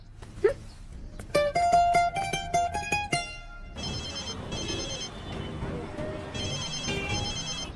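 A telephone ringtone plays a rapid, bright electronic melody in repeated bursts, loud and close, followed by steadier beeping tones over a busy indoor background in a Punjabi film scene.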